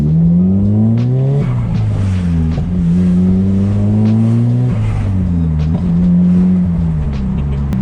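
A turbocharged Nissan S15 Silvia with a modified exhaust and boost controller revs and accelerates loudly, its pitch climbing and dropping repeatedly through gear shifts, with sharp pops and crackles from the exhaust.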